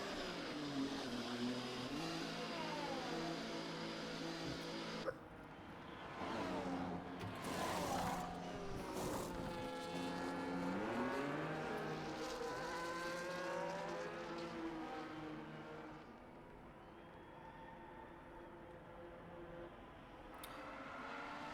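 Open-wheel F1 race car engines from the F1 24 video game at Zandvoort, a steady high-pitched whine with rising and falling revs as cars pass, fairly loud and continuous throughout.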